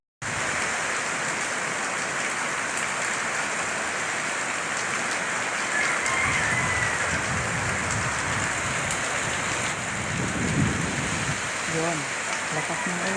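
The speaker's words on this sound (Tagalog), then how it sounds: "lakas ng ulan guys. Sobrang lakas." Heavy rain pours steadily outside a home, a dense continuous hiss of drops on surfaces, loud and close throughout, with faint low rumbles later.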